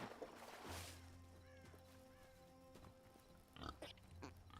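Pigs in the Hytale block-building video game give several short, low grunting oinks, fairly quiet against soft game ambience, with a couple of brief snorts and clicks scattered between them.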